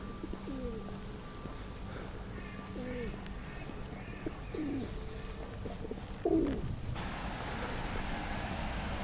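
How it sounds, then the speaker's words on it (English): Pigeons and other birds calling in a London back street near Holborn and Lincoln's Inn, a few repeated coos and calls over steady outdoor ambience with faint background voices. "God, it's like Alfred Hitchcock, the birds around here."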